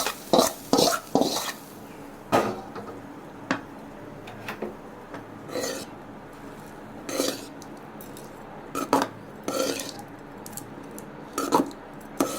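Amla (gooseberry) rice being stirred in a pan, with intermittent scraping and clinking of a spoon against the metal in short bursts, fairly close and moderately loud, with quiet gaps between strokes.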